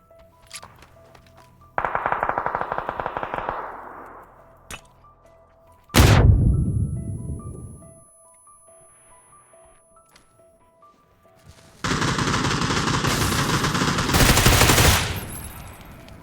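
PUBG: Battlegrounds gunfire on the Erangel map: a rapid burst of automatic shots, a single heavy blast, then a long loud sustained volley after a quiet stretch.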